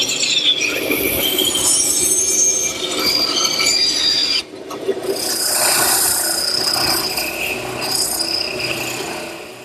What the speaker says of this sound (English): and I'll rough them out at the bandsaw